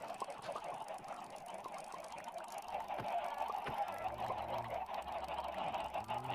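Chickens in the Minecraft video game cluck and squawk in a dense, continuous flock chatter at moderate volume, with no speech over it.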